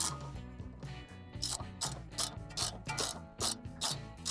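A wrench ratchets in quick repeated clicking bursts while tightening a tapered lock nut on a Focus ST's suspension, held with an Allen key, close and steady with no talking.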